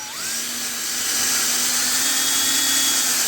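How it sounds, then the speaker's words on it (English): A 7/16 coarse tap cutting threads in the long bolt holes of a rear brake caliper from a 2003 Dodge RAM 3500 dually, heard as a steady, close whining drill-like tone that holds a constant pitch throughout, with no talking. "we've got a 7/16 course tap on here"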